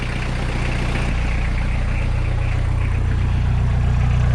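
Suzuki Vitara engine with its muffler cut roughly in half idling steadily, a loud, close, deep rumbling drone with a slight rise partway through and no talking.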